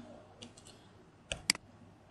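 A few sharp clicks from a computer mouse while browsing Facebook messages, one faint tap followed by a closer double click, quiet and without speech.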